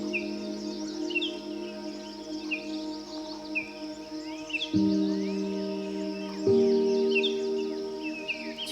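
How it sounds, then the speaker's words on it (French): Birds chirp and sing in a forest in short, repeated phrases at moderate distance over a soft, steady background hum. "Écoute les sons autour de toi, les oiseaux, le vent,"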